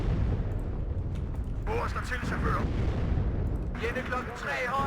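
Heavy mortar and artillery fire in the wargame WARNO, a continuous rumbling barrage of booms rolling on throughout, with someone talking over it in two stretches.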